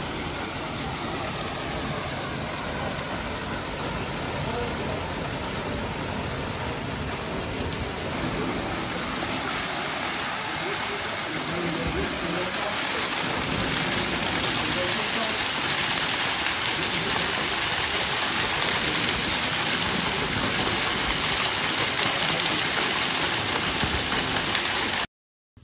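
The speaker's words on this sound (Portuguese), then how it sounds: "Estou aqui na cachoeira, no Vale das Borboletas, em São Tomé das Letras." A waterfall in the Vale das Borboletas at São Tomé das Letras roars as a loud, steady, broadband rush of falling water, continuous and close throughout.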